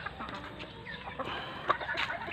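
Backyard chickens cluck in a busy, overlapping chatter while being fed alongside turkeys and pigeons, a steady close flock murmur with a few sharper calls standing out.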